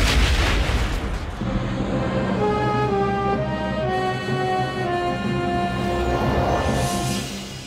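Loud explosion destroying an empty building, a heavy blast and rumble at the start followed by a long sustained tonal ring and roar that slowly fades.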